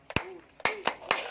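Four sharp, separate hand claps, the first loud and the rest evenly spaced, done as acupressure clapping in a yoga and breathing session; a faint voice shows between them.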